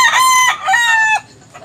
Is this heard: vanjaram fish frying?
no